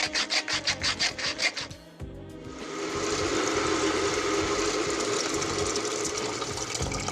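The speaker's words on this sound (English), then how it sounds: "Grind some pepper." A pepper mill grinds with a quick series of rhythmic scraping twists, then a brief pause, followed by a louder sustained hiss and clatter of cooking.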